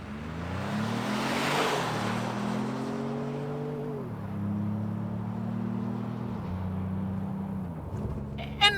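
A 2025 Ford Maverick Lobo pickup accelerates hard in sport mode, its engine note climbing steadily through several gears with distinct drops at each shift, heard from inside the cab with a faint click at the end.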